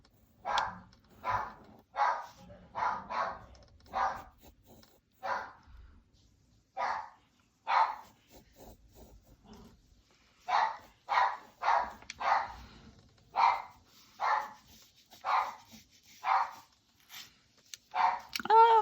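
A dog barks again and again, with sharp, well-spaced barks running steadily through the whole stretch and fairly close, with no talking over it.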